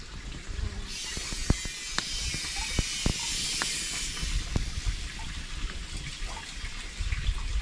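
Bird meat grilling over an open fire gives a steady, close sizzling hiss, broken by scattered sharp crackles and pops throughout.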